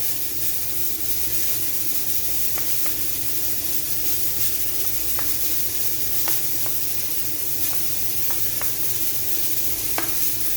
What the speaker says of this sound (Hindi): अपने प्याज जो हमने रखे हुए हैं धीमी आंच पे उसको करना स्टार्ट कर देंगे